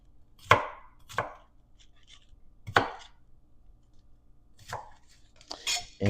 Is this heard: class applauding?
no